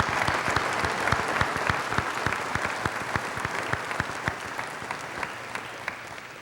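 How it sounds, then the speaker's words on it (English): A large crowd applauds at a high school commencement ceremony. The clapping is steady, sustained and continuous, with sharp individual claps standing out close by, and it fades slightly toward the end. "Please give them a round of applause."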